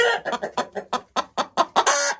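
A large, broad-chested hen clucks in a steady run of about a dozen short, close calls, ending in a longer drawn-out squawk.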